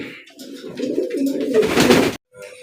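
A pair of yellow Mundian pigeons coo close by, a low rolling murmur that swells and wavers steadily for about two seconds before cutting off.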